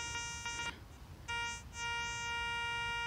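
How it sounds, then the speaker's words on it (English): Metal detector sounding a repeated two-tone beep over a zinc penny buried less than two inches deep, clear electronic tones in short bursts with brief gaps, alone and fairly close. "So you can hear it double beeping there."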